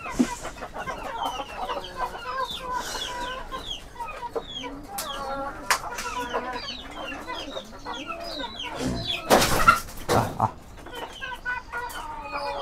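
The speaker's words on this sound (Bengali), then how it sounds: "দেশি মোরগ মুরগিগুলা এটার ভিতরে আমি আটকে রাখছি।" Local chickens and roosters shut inside a coop, clucking and calling steadily throughout, with a louder burst of squawking near the end and no talk.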